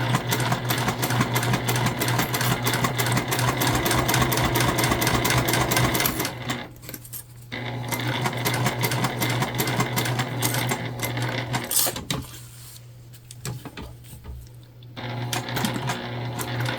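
A sewing machine stitches through thick key fob wallet material with a zip and a gate ring connector, running in rapid mechanical bursts with short pauses and slower passages, loud and close with no talking.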